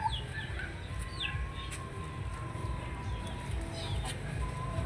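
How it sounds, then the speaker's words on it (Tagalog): Chickens clucking around a hut at a rural provincial home, several soft calls scattered over a steady background hum, fairly distant and faint. "May mga manok din kami dito sa probinsya."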